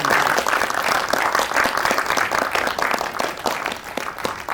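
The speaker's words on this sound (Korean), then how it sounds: "따뜻한 박수 부탁드리겠습니다." Steady audience applause at a Korean film press screening, many hands clapping densely and continuously at a fairly loud level throughout, with no talking.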